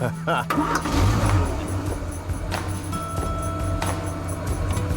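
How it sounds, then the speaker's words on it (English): A car engine cranks and catches near the start with a jingle of keys, then settles into a steady running hum with a light rev, all fairly close and continuous. "Rev up the engine."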